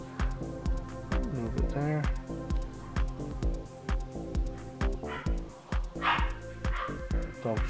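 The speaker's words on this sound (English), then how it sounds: "Dog's going crazy again." A dog barks repeatedly, short sharp yaps spaced in a quick irregular rhythm, somewhat distant, while a voice speaks over it.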